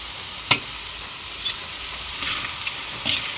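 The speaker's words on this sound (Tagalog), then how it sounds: "Hahaluin ko po." Miki noodles frying in a pan give a soft, steady sizzle, with a few faint scrapes from stirring on top.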